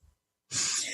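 A single sharp sneeze bursts out after a brief soft breath, loud and close, with a hissy burst of air that trails off.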